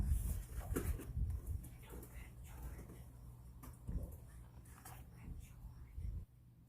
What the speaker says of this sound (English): Got some noisy kids in the background